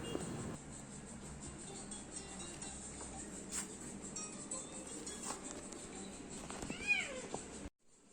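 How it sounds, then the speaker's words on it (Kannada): Cats playing at home give off several meows, faint and at a distance, over quiet room ambience, with one clearer meow near the end. "ಬೆಕ್ಕು ನಾಯಿಗಳೆಲ್ಲ ಆಟ ಆಡೋದನ್ನ ನೋಡಿ"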